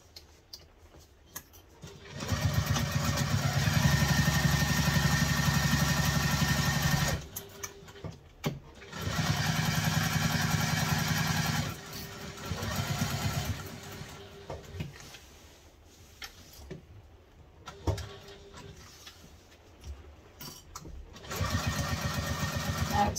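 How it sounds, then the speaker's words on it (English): Sewing machine stitching along pattern lines on a wallet, running in long steady motor bursts of several seconds each with brief pauses between, fairly loud and close, with no talk over it. "So now we're going to sew along these three lines using the seam allowance in the"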